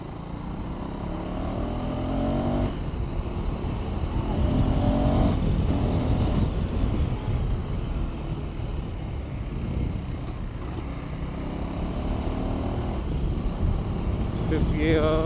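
A KTM 390 Adventure X motorcycle engine pulls through its gears on the road, a steady loud drone with rising revs and brief dips at the shifts, with wind noise and a rider talking over it.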